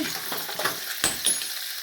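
Fish frying in a pan makes a close, steady sizzle broken by a few scraping, stirring sounds from a utensil, with a brief bright clink partway through.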